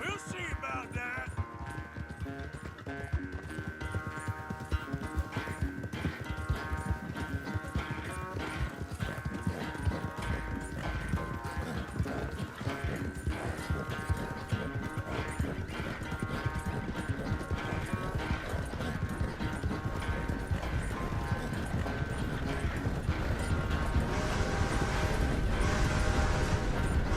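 Horse hooves clip-clop steadily throughout a ride in Red Dead Redemption II, a continuous rhythmic beat mixed with game music, ambient sound and occasional voices.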